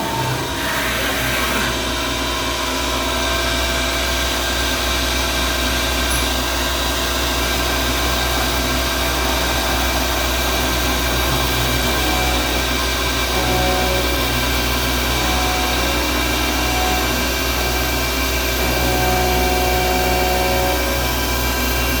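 A CNC mill runs its end mill through a fishing reel body, giving a loud, continuous broadband whir and hiss that holds steady throughout with no voices.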